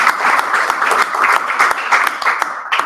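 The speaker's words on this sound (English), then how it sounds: "And let's give him one last round of applause." Enthusiastic applause from a TechMasters meeting audience, many hands clapping densely and steadily at close range for about three seconds, with no talking over it.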